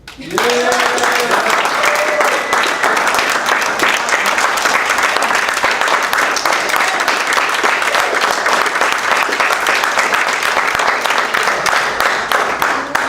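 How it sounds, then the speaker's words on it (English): Applause for former board members at a student TV station's annual general meeting: a big, sustained round of clapping from the room, a few voices at the start, then dense, even hand-claps for many seconds. "Could I definitely get a big round of applause for the members of the last board that are still here"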